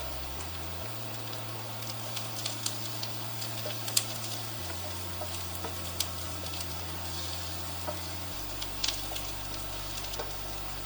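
Chopped garlic chunks hit a hot pan for a chicken and homemade pasta cream sauce, giving a steady crackling sizzle over a low hum, close and continuous with no talk.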